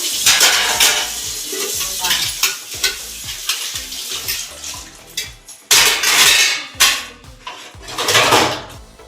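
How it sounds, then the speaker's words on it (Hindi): Metal pots, plates and cutlery clatter and clank repeatedly during dishwashing, loud and near, with running water and a few sharp bangs in an irregular rhythm. "बर्तन धो दिए मैंने"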